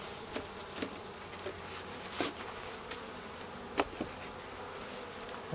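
Bees buzz steadily and densely beneath the mesh floor of a queenless hive during an inspection after a split, with a few louder buzzing passes of single bees rising close to the microphone.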